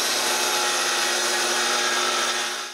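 A power saw cuts through wooden shutter boards for a cottage in a loud, continuous whine-and-rasp close by, holding steady before tapering off at the end.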